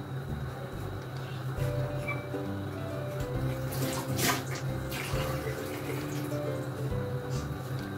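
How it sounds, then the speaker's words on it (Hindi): Extra water pours steadily into a pot of arbi (taro root) and potato curry in a home kitchen, a continuous close splashing rush that lasts throughout, with a faint tonal hum behind it. "अब मैं एक्स्ट्रा पानी डालूंगी, वो अरबी और आलू के गलने के हिसाब से होगा।"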